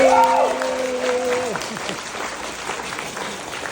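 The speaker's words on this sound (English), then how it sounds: "let's give him another round of applause" A crowd keeps clapping in a broad, even wash while a voice speaks over the start, and the applause gradually tapers off.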